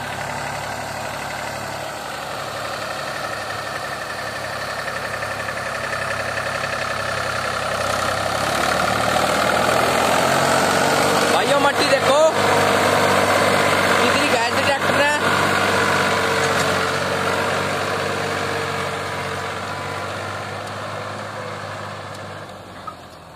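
A Mahindra 265 DI tractor's heavy diesel engine idles steadily and loudly throughout, a low rumbling chug that swells slightly in the middle before easing.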